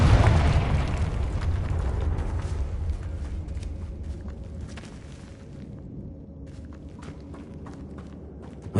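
Confringo fire spell explosion in Hogwarts Legacy: a loud blast at the start followed by a long, crackling rumble that gradually fades, with scattered debris-like clatter and no speech.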